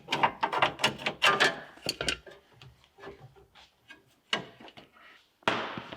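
A small access hatch over the cabin air filter on a Kubota KX080-4 excavator is opened, giving a run of close clicks, knocks and latch clatter with brief pauses, then a final louder rattle.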